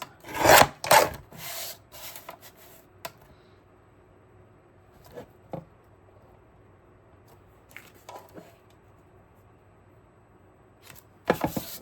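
Paper for a handmade card is trimmed, producing a burst of rough rubbing and cutting strokes at the start, a few isolated scrapes in near-silence, and another short burst at the end, close by and without talk.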